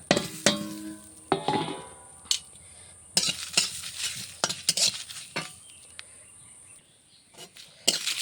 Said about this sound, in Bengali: কালো সরিষা কালো জিরি জিরি আর শুকনো মরিচ কড়াই দিয়ে ভেজে নেব